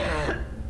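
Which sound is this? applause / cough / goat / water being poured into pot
cough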